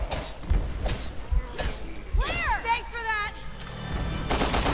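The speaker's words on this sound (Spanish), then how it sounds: "Supongo que ya oyeron todos los tiros." Gunfire in Resident Evil Revelations 2 cracks out in scattered bursts amid crashing impacts, warbling electronic effects and a loud final burst, with voices mixed in.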